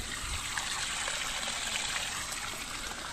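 Hot spring water runs steadily down from the mountain in a continuous broadband trickle and gush, close and unbroken for the whole stretch with no talk over it.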